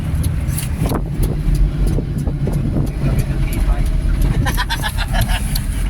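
A jeep rolls along the Tiaong bypass road in Quezon, its engine and road noise a steady close rumble with passing traffic swells, while people talk over it.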